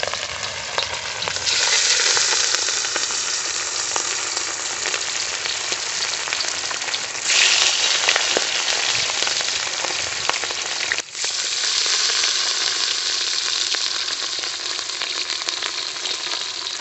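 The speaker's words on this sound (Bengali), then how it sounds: "তেলটা ভালো করে গরম হলে আমরা দিয়ে দেবো এর মধ্যে কেটে রাখা রুই মাছ।" Pieces of rohu fish fry in hot mustard oil in a village kitchen, giving a loud, dense, unbroken sizzle like heavy rain. The sizzle swells and dips slightly as the pieces settle and shift, and no voices are heard.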